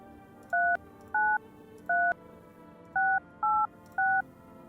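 Six short, clean telephone keypad tones sound one after another at an uneven pace, fairly loud against a quiet hum, as a number is dialed on a phone in the game No, I'm Not A Human.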